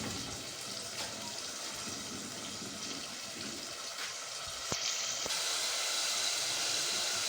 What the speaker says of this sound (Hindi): ये टमाटर डाल दिए, थोड़ा सा पानी ऐड करेंगे ताकि टमाटर डाल दें अच्छी से।